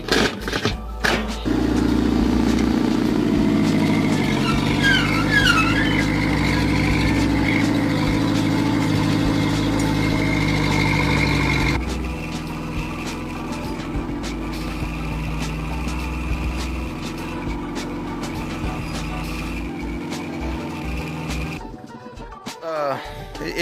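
A used bulldozer engine with a sticking clutch idles steadily and loudly up close, a low heavy rumble that drops to a slightly quieter running note halfway through, with people talking over it.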